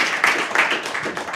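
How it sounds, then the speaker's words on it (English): Audience clapping after a talk at a data and AI meetup, a small room's worth of close, uneven claps in a brief burst. "Round of applause"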